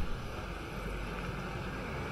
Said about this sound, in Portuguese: O motor deve estar tá gritando.